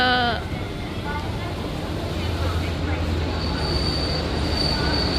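A train squeals and rumbles along the rails as it pulls into a station, its wheels screeching at a high pitch over a steady low roar.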